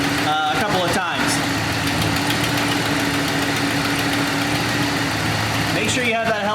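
A Ram truck with a 65RFE transmission idles steadily and loudly up close while the gears are cycled with the brakes held, its low rumble constant, with brief mechanical shifts near the start and end.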